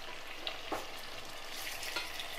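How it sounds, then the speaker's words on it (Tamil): Chopped tomatoes with a little salt sauté in a pan of softened onions for a fish curry, giving a soft, continuous sizzle with light stirring scrapes, quiet and close, with no talk. "தக்காளி வதங்குறதுக்காக கொஞ்சம் உப்பும் சேர்த்து நல்லா குழைய வதக்கிடலாம்."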